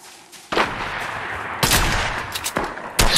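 Gunfire in the Fortnite video game during a ranked match, heard as a few loud, sharp bursts separated by quieter stretches of game noise, with the last shots landing near the end.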